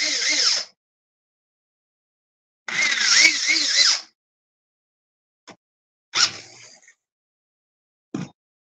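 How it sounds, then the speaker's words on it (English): A power drill bores holes for a rod holder in short bursts: two loud whirring runs of about a second each, then a few brief clicks and a short final spin, with silence between. "I still got 2 more holes to drill, don't I?"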